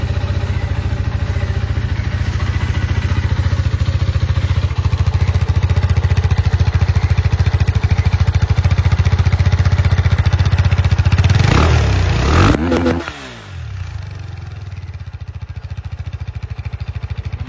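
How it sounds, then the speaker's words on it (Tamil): A KTM RC390 BS4 motorcycle with its stock exhaust idles steadily and loudly up close for about twelve seconds, then revs briefly and settles back into a lower, quieter idle. "ஸோ இது ஸ்டாக் ஐடியல் சவுண்டு எக்ஸாஸ்ட்டு."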